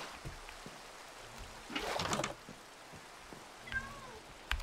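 A cat meows in the video game Minecraft. A drawn-out mew sounds in the middle, and a shorter, higher chirping meow follows later over a low, quiet background.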